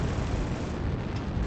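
Sustained rumbling explosions from an artillery strike in the MechWarrior Online video game, a dense, continuous roar with no distinct gaps, loud and close throughout.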